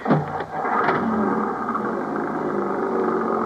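A car engine revs and pulls away in a 1950s radio drama scene, giving a short rising burst and then a steady, fairly loud roar with no talking.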